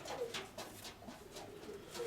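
Pigeons coo softly in a dovecote, a few low repeated coos in a quiet, gentle rhythm.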